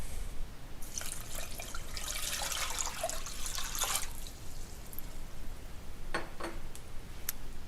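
Water is poured and splashed in short bursts while making hummingbird nectar from sugar and water, with a few quick drips and trickles trailing off over a quiet background.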